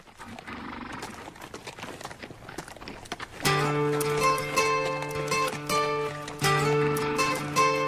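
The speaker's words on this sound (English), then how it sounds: "I can't wait to hear the horses" Hooves clip-clop at a walking pace with outdoor ambience, then loud music with a steady droning chord starts partway through and dominates.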